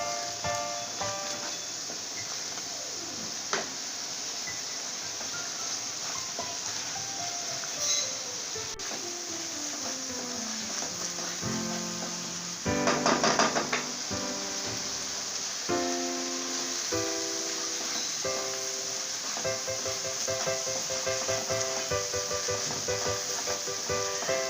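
Bengali mustard spice paste for hilsa fish being stir-fried in a pan: a soft continuous sizzle and scraping hiss under loud instrumental music, with a brief louder clatter midway.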